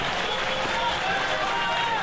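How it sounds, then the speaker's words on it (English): A wrestling crowd at a championship match roars and screams in support of a local hero, a dense, loud wall of cheering and shouting that persists without letup while a commentator talks over it. "The audience is screaming at the top of their voices."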